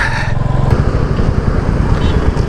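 Motorcycle engine idling and running steadily close by, a rough, throbbing low rumble that carries on unbroken for the whole stretch with no talking over it.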